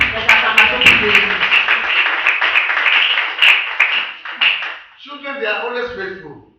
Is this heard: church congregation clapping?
yes